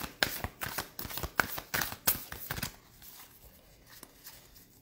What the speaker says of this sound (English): I'm gonna pull a couple of Oracle cards as well